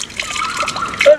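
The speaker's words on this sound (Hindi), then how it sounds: "तुम रुको यहाँ और मैं पानी पीता हूँ। इसको साफ करते हैं और फिर पीता हूँ" Water trickling and splashing as a man cleans and drinks from a source in the jungle, with light dribbles and a small splash near the end, close and moderately loud.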